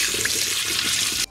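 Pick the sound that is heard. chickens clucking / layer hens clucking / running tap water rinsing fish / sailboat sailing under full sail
running tap water rinsing fish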